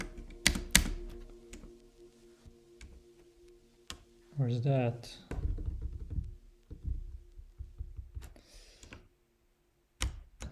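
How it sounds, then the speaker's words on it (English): Someone types on an unfamiliar computer keyboard while coding, producing sparse, close key clicks and taps scattered through the clip. A person briefly speaks partway through. "I'm using a different keyboard, so I don't know where's the at."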